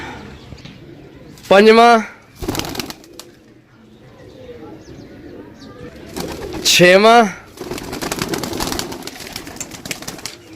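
Pigeons are let go one after another, with coos and bursts of flapping wings close by while a man counts aloud over them.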